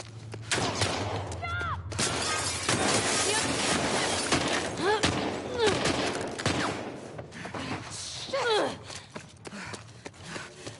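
Gunfire in The Last of Us Part II rattles in loud irregular bursts and single cracks amid a chaotic fight, with shouting voices mixed throughout.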